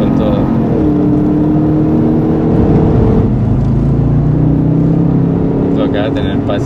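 A Jaguar car accelerates on a driving course: a loud, close engine drone rises in pitch as it revs up, with a voice talking over it.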